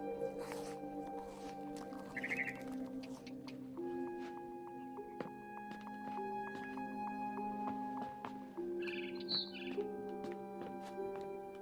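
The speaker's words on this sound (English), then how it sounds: "Then I heard chirping outside my window. It was a barn swallow going back to her nest." A barn swallow chirps in a video game, with short bright calls at intervals over a soft, sustained musical backdrop.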